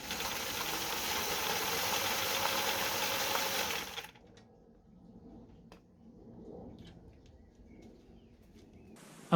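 A small motor on a homemade tracked trike drive unit whirs steadily with a mechanical gear whine for about four seconds, then stops, leaving faint ticks and quiet background.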